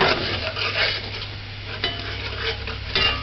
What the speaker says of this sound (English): And just stir it in.